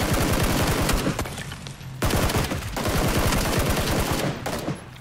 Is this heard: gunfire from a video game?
yes